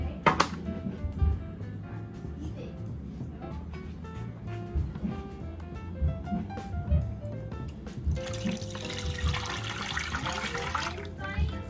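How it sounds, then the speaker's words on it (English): Liquid Jello pours from a container into a greased pan, a soft trickling and sloshing close to the microphone, with faint clinks and a louder splashing stretch near the end. "So I'm gonna pour it in my pan."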